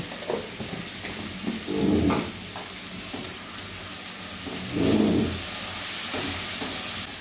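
A spice mixture with turmeric and salt sautés in a pan for a ridged gourd dish, a steady sizzle and hiss with two louder stirring swells, close by and without talking.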